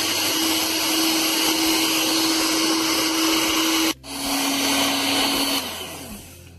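Electric mixer whipping cream with a spoonful of emulsifier into chantilly, a steady loud motor whine running continuously, briefly cutting out around midway before resuming, then winding down near the end.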